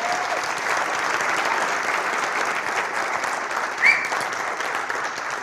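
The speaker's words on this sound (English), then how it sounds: "Let's give these people a round of applause." Applause from the audience at a free software conference keynote, a broad, even wash of many hands clapping, sustained and fairly loud, with one brief vocal sound near the end.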